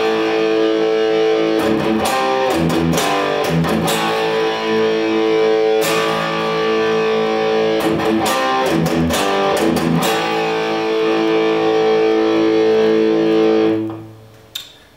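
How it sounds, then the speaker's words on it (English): Distorted electric guitar chugs palm-muted power chords on open A in a heavy metal riff, dense rhythmic bursts of muted strums between ringing chords, loud and close, ending in a brief fade. "The chugging is going to be done by palm mutes."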